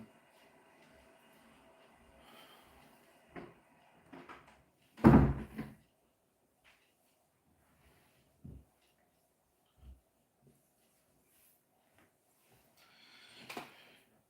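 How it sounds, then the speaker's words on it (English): A room door is closed with one loud thud and a short follow-up knock, with scattered quieter knocks and rustles afterward in an otherwise quiet room. "I'm just gonna close the door"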